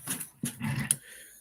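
Sleepy dog at home letting out a few short, low groans and grumbles close by, quiet breaths between them.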